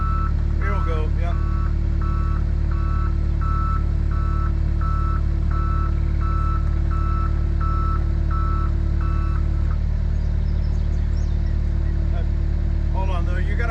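A truck on a building site backs out while its reversing alarm beeps in a steady repeating pattern over a loud rumbling engine, with people talking nearby and the beeping stopping near the end.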